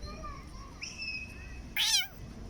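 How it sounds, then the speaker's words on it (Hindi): A cat meows several times in a park at night, a few mid-range wavering calls followed by one louder, longer meow near the end over a quiet outdoor background. "ये सामने एक प्यारी सी बिल्ली भी आके बैठी है"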